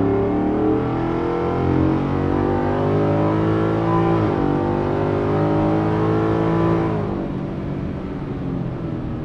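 Inside the cab of a 2023 Ford F-150 with a Coyote V8 and Corsa Extreme exhaust, the engine drones and builds under acceleration, then the note falls away and quiets near the end as the throttle is released.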